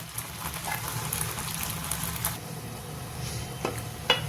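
A pot of masoor (red lentil) dal with spinach bubbles and simmers steadily at low volume, with soft gurgling and a few faint clinks.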